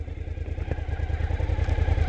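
A motorcycle engine running near the mic with a steady low pulsing idle, punctuated by a light clatter, the bike having been started with its push start button during a motorcycle riding training course.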